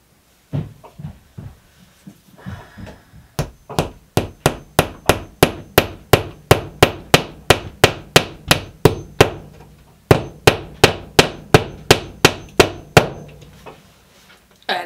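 Steady hammer blows strike wood in a long regular series, loud and close, with a brief pause partway before the rhythm resumes, while shelving is installed in a laundry room.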